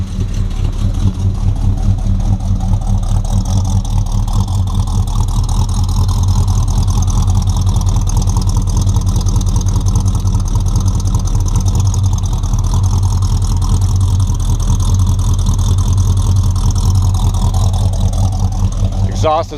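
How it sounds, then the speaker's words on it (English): A 1973 Oldsmobile Hurst V8 turns over and settles into a steady idle, a continuous deep rumble that stays loud and close throughout, with a faint change near the end. "let's pop the hood and fire her up"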